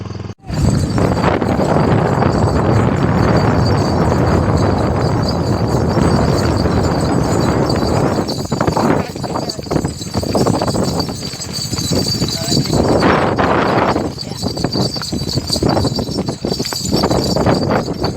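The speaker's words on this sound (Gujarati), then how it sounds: "કાકા લઈને આવે છે ઘોડી" A mare led along by a man gives rhythmic clip-clop hoofbeats that run loud and close for the whole stretch, with people talking over them.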